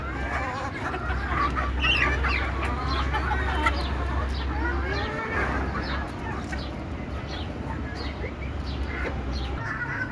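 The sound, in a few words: native desi chickens clucking on rooftop farm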